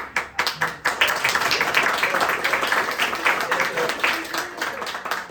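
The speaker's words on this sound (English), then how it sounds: "A round of applause is in order" An audience applauds a comedy show host at an evening performance, with scattered claps building into sustained, fairly close applause.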